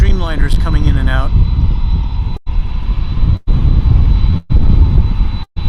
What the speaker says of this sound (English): United Parcels, or UPS 747 take off for Louisville.